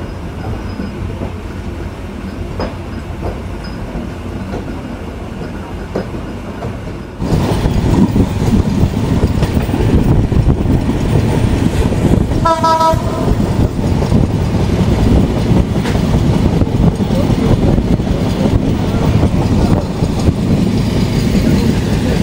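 The Kapotaksha Express, a broad gauge train heading from Khulna toward Jessore, rumbles steadily from onboard as it runs through Fultala station, growing louder partway through, with a brief run of rhythmic wheel clicks and no talk.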